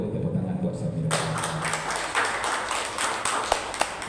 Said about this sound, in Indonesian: Boleh Bu tepuk tangan buat Samira.